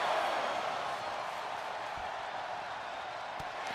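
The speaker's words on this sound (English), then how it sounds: "the crowd is chanting, this is awesome" In the wrestling game WWE 2K25, a distant arena crowd chants and roars as a constant wash, with a couple of faint thumps from the ring breaking through.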